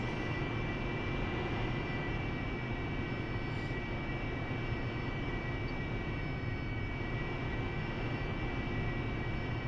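An AV-8B Harrier jet flies in the DCS World combat game, its engine a steady, even roar and whine holding at constant level from start to finish, with no voices.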